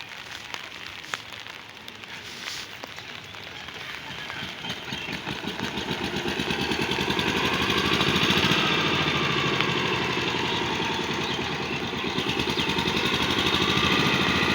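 A power tiller engine runs in a rural village field after rain, its rough mechanical chug starting faint and growing louder and steadier as it nears.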